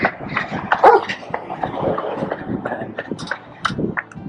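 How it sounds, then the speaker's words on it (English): Dog barking outdoors in Paphos, Cyprus, around a hotel terrace, with short yips and barks scattered across the moment, mixed in with nearby voices talking and general outdoor bustle. "But yeah, dog."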